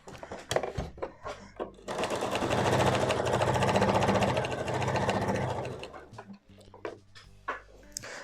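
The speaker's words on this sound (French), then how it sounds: "quand j'arrive en bout, je laisse planter l'aiguille, je soulève et je pivote" A sewing machine stitches a flat-pleated skirt in one loud continuous run of rapid needle clatter, framed by short clicks and knocks as the fabric is lifted and pivoted.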